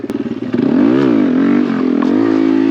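A Honda Grom motorcycle engine, throttle opened for a wheelie: a short burst of putters, then a loud, sustained rev that rises and dips, close by and alone.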